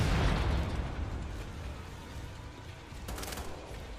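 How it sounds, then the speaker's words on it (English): A grenade blows up in the Wolfenstein video game: a loud, close burst at the start that rolls off into a low rumbling tail, with a second crackling blast a few seconds later. "I just said, the heck with it, I'm just going to go throw a grenade"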